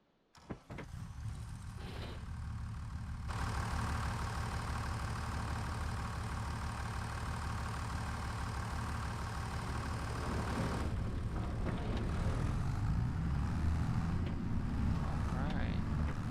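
A tractor in Farming Simulator 25 idles with a steady, even engine drone that holds at a constant level for the whole stretch, with no revving or gear changes.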